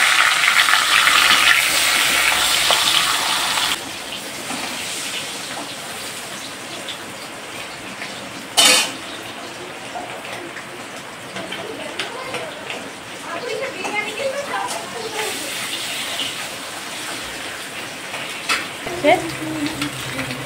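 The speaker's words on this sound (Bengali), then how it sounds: "মাছের মাথাটা আমি লবণ হলুদ মাখিয়ে ভেজে নেব" A catla fish head rubbed with salt and turmeric fries in hot oil, giving a steady crackling sizzle throughout with a brief sharp clatter partway through; a voice speaks faintly over parts of it.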